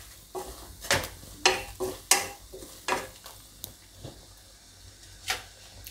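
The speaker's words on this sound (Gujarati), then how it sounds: "બધું આપણે આ રીતે મિક્સ કરી લેવાનું." A spoon stirs a spice masala mixture in a pan for stuffed raw tomato curry, giving a series of sharp, close clinks and scrapes at an uneven rhythm over a faint background sizzle.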